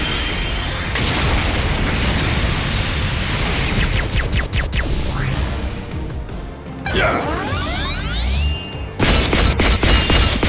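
Dark explosion attack in the Digimon Story Time Stranger video game: loud, dense booming blasts with whooshing sweeps and crashing bursts that fill the whole stretch, ending in another heavy burst.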